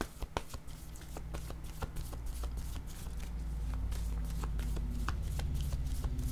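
Tarot cards being shuffled during a card reading, a rapid run of crisp riffling snaps and soft slides over a low steady hum, close and continuous for several seconds.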